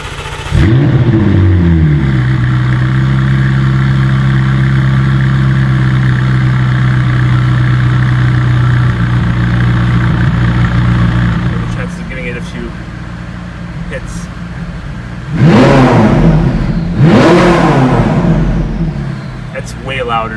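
A McLaren 675LT sits at a loud, steady idle with a deep, throbbing rumble, settles slightly lower, then is blipped twice in sharp, rising revs close by.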